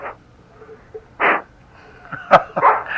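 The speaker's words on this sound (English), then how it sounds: "Do you have a dog there, sir?" A dog barks a few short times close to a telephone line on a call-in radio show, sharp yelps standing out over a quiet background with faint sounds between them.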